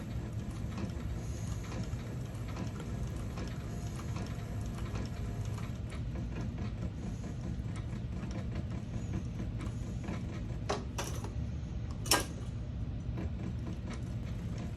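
Sewing machine overstitching a leather biker wallet, a steady mechanical chatter of the needle running continuously at moderate volume, with a few sharper clicks near the end and no talk.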